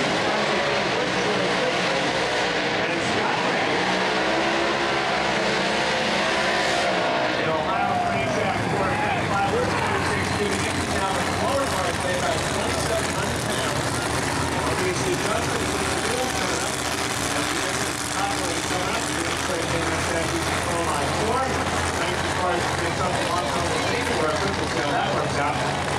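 Heads-up drag racing car, the Austin car at the 2004 NHRA Thunder Valley Nationals quarter-mile, roaring loudly and continuously through its run, a sustained dense engine blast filling the whole stretch with a shift in tone early on.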